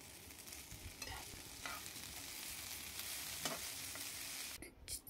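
Garlic okra (lasuni bhendi) fries in a pan with a continuous close sizzle. Several stirring scrapes break through the hiss, and it cuts off briefly at the end.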